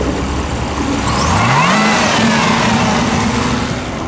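A 650-horsepower 2017 Chevrolet Camaro ZL1 fires up with its variable exhaust in tour mode, a steady loud engine tone that rises briefly in pitch before settling into a subdued idle, with no talking.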